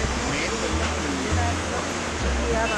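Water rushes steadily through the Ganga canal at Haridwar, a dense continuous roar close by with a low rumble beneath and faint voices in the background.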